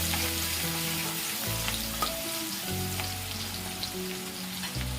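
Finely chopped onion and green chili sautéing in hot oil with cumin-coriander powder, producing a continuous, close sizzle and crackle that holds steady throughout, with a low background hum.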